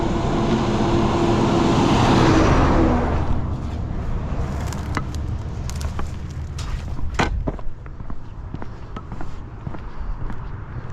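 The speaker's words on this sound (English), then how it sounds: "Amazon truck." A large truck roars past on a Southern California highway, its loud rushing road noise swelling and then fading, followed by fainter traffic and scattered footsteps nearby.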